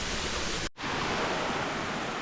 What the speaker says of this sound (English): you get to go alongside a waterfall